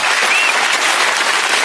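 Loud, dense applause from a large crowd at a political speech, a continuous wash of clapping that fills the whole moment without any voices.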